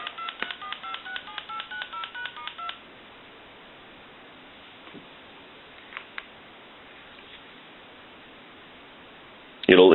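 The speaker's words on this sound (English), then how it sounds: "I want to hang up, give you some dial tone, and hit redial." A Thomas limited edition telephone under repair sends a quick run of touch-tone redial beeps, then falls to a faint hiss with a few soft clicks before a loud burst at the very end.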